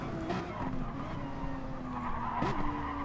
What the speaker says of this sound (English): Losing time with the skidding.